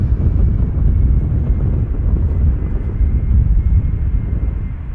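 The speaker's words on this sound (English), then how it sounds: "Got another Embraer 175 following it from KLM, arriving from Humberside." A KLM Embraer 175 airliner arriving at Amsterdam Schiphol Airport, heard as a steady low engine roar with wind buffeting, continuous and fairly loud throughout with no talking.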